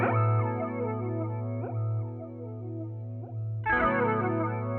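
Electric guitar played through an Alexander Pedals F.13 NEO effects pedal, with sustained modulated notes carrying a chorus-like, slightly distorted shimmer and pitch glides, then a fresh strummed attack near the end, close and steady.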